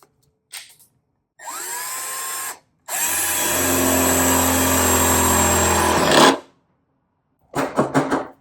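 A power drill fitted with a step drill bit bores through sheet metal in two bursts, a short whine then a longer steady grinding cut, loud and close, followed by a few clattering knocks.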